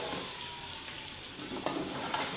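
Chicken pieces for white karahi, coated in cumin powder and crushed dried coriander, fry in a pan with a close, even, hissing sizzle and a couple of light stirring taps near the end.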